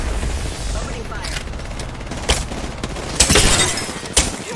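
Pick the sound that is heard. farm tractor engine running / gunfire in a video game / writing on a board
gunfire in a video game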